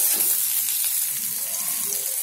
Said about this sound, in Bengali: কাঁচা লঙ্কা দিয়ে দিলাম এটিকে হালকা বাদামি রং পর্যন্ত ভাজতে হবে